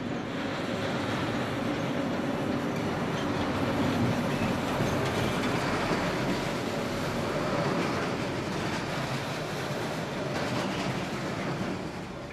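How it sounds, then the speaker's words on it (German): A narrow-gauge freight train rumbles past steadily through the town of Chur, Switzerland, a continuous loud roar of wheels and rattling cars with clickety-clack, no voices. "wenn ihnen mitten in der Stadt gelegentlich ein Güterzug entgegenkommt"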